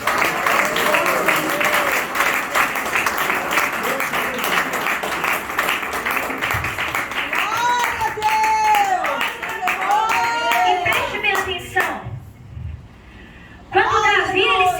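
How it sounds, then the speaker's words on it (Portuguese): A crowd at a church worship service claps steadily and continuously, loud and close, with voices singing or talking over it before the sound briefly drops out near the end. "Glorifica com as palmas."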